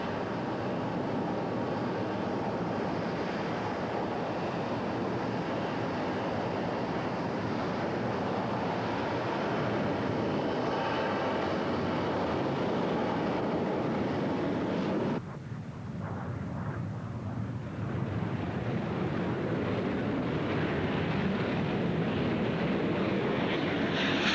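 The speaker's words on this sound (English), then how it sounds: "It's flying by at about 580 miles an hour" A Harrier jet passing at high speed during the 1983 Greenham Common International Air Tattoo, a sustained roaring wash of jet noise that shifts abruptly midway, loud and distant, with no speech.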